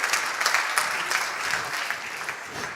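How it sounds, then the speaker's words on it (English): Conference audience applauding Rotary at a presidential conference in Venice, a continuous crowd clapping at moderate level, steady and dense with scattered sharper claps standing out, and no talk on top. "you can clap to Rotary"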